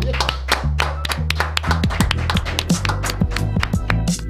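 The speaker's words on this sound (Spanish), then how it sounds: "Recibimos con un fuerte aplauso a Mayra Mendoza" Studio applause welcomes Mayra Mendoza onto a talk show: close, crisp handclaps over a prominent, loud musical backing with low sustained tones.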